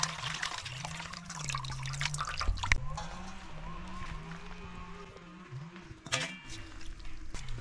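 Mutton pieces rinsed under cold water in a village-style kitchen, a steady splashing, trickling run with brief louder sloshes and handling clatter, close by.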